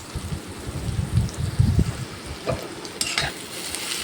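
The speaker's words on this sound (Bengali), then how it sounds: "এখন ভালো করে এটা নাড়িয়ে দিব।" Chopped onions with turmeric and salt frying in a pan are stirred, producing a close sizzle with uneven scraping bursts, louder in the first two seconds; no talking.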